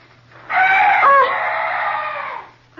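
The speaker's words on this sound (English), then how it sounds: "Oh, some night bird. Yes, that's all. Such a weird sound." In a dark fantasy tale, an eerie night bird call rings out as one loud, drawn-out cry lasting about two seconds. It is close and clear, with a faint low hum underneath.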